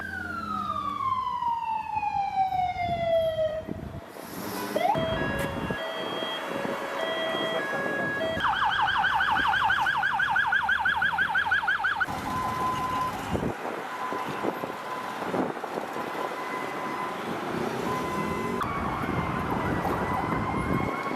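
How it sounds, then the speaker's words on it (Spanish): An ambulance leaving Lima airport with its siren on, a loud wailing and yelping siren that changes pattern several times over traffic noise. "Esta es la quinta ambulancia que estamos viendo salir."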